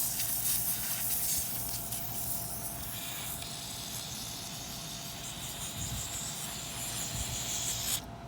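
Lubricant sprayed from an aerosol can onto a period brass mortise lock being refurbished: a steady, close hiss runs for about eight seconds, with no talk.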